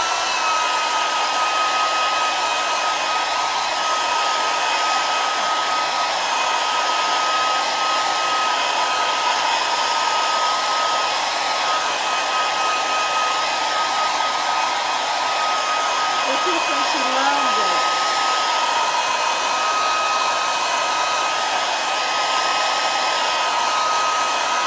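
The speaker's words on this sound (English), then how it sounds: "I just hit it with the dryer to kind of expedite the dry time" A hair dryer blows steadily on a transfer to speed its drying, a loud, constant whooshing hum that runs unbroken and close with no talking.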